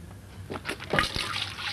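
Water trickles and gurgles out through a siphon hose from a tank, a soft close splashing flow that builds after a moment and continues without voices.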